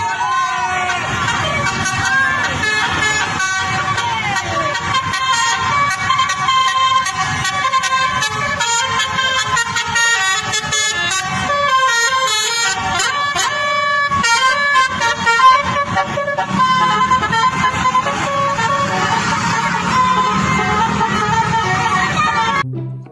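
Kiki Trans Winspector coach bus sounding a loud, musical multi-tone horn melody that plays on continuously, with crowd chatter and speech in the background.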